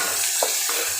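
Tomato sautéing with bitter melon in a pan, a loud, steady sizzle with a couple of brief stirring scrapes, close up and without voices.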